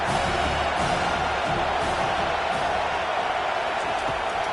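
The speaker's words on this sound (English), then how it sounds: "Third down, and this crowd is tearing the lid off this place." A stadium crowd roars on third down at an Ohio State at Penn State college football game, a dense, sustained wall of cheering with scattered whoops.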